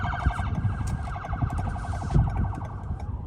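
Police car siren wailing on a city street in Milledgeville, Georgia, its rapid warbling tone cycling steadily, fairly close, over low rumbling traffic noise.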